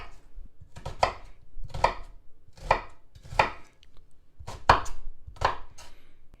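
A kitchen knife rough-chops yellow onion on a board for salsa: seven steady, evenly spaced chops, close and crisp, with no talking.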